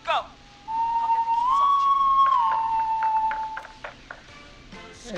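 A loud, sustained whistle in a video game, a single tone held for about three seconds that bends slightly in pitch, followed by scattered game sounds.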